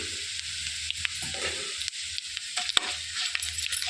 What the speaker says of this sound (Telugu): ఇప్పుడు ఆవాలు అనేవి చిరపట్లాడుతున్నాయి